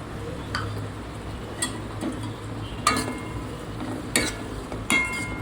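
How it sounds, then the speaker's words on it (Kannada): Tomato, turmeric and spices frying in oil for a pepper chicken gravy: a soft, steady sizzle broken by occasional light clicks and scrapes of a stirring spoon against the pan. "ನೆಕ್ಸ್ಟು ಒಂದು ಸ್ವಲ್ಪ ಟರ್ಮರಿಕ್, ಇದೆಲ್ಲ ಹಾಕ್ಬಿಟ್ಟು ಚೆನ್ನಾಗಿ ಫ್ರೈ ಮಾಡಬೇಕು."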